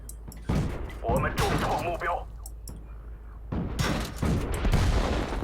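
Artillery fire in World of Tanks: heavy booming blasts and rumbling impacts come in a couple of loud bursts with a quieter gap between them, and someone talks over the noise.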